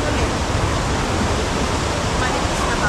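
Lower Falls in Johnston Canyon, Banff, Alberta, pouring down; a loud, steady broadband roar of falling water fills the scene from nearby without a break.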